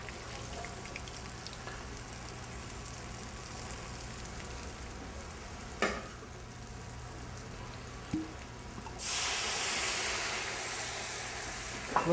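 Steady, close frying sizzle of egg-coated wild game pieces in oil, with a couple of small clicks and then a louder burst of hissing near the end.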